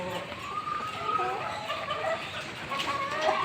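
Black chickens (karinkozhi) cluck and call on a small farm alongside native fowl, a busy noisy yard with overlapping bird sounds and background clatter at moderate distance.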